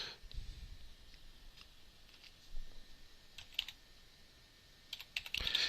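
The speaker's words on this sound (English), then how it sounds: "So for example, if I just start typing in a" A computer keyboard is typed on up close with soft, quick rapid clicks, short pauses between bursts of keystrokes, and no talking over it.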